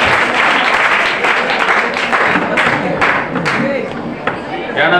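An audience at a school annual prize-giving ceremony claps loudly and steadily for several seconds, a dense burst of applause that keeps going at a fairly even level, with some voices mixed in.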